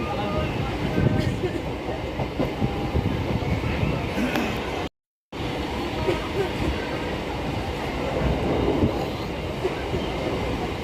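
A train rolls along in a continuous rumbling clatter, heard from aboard with faint voices mixed in, broken by one brief total dropout midway.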